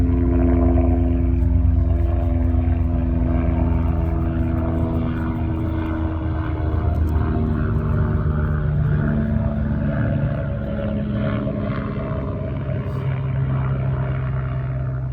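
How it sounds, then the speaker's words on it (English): A helicopter passes continuously overhead, a low, steady engine drone with a rhythmic rotor thrum, loud and sustained throughout with no voices. "I'm gonna let that helicopter go by."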